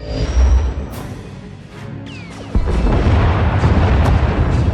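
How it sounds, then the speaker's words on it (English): A Thranta-class warship in the Star Wars: The Old Republic game fires turbolasers and missiles, heard as loud, deep booming blasts and sci-fi laser zips that build into a heavy rumbling barrage, with no talking over it. "Enemy is firing. Turbo lasers, missiles, and what looks like transport pods."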